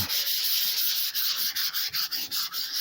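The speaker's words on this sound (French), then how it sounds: "on va continuer le ponçage" The tailgate of a black Peugeot 306 is sanded by hand, a close, steady scratchy rubbing with rhythmic strokes that dip briefly near the end.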